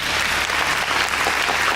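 A studio audience on The Voice Global Asia breaks into steady, dense applause that fills the entire moment, loud and continuous with no voices on top.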